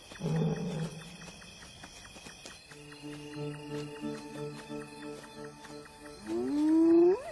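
A male lion roars at night in the African wild, a heavy rumbling call opening the clip, followed by sustained low tones and a rising swell near the end.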